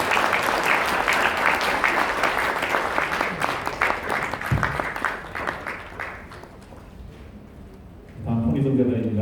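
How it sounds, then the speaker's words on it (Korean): An audience at a children's welfare association anniversary ceremony claps warmly after a plaque presentation, dense and sustained, then thinning and fading out before a speaker's voice returns at the end. "여러분 큰 박수 부탁드리겠습니다"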